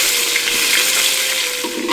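Chopped onions with cinnamon, cardamom and cloves fry in ghee and oil for a village-style country chicken biryani, a steady close sizzle and hiss throughout with no voices.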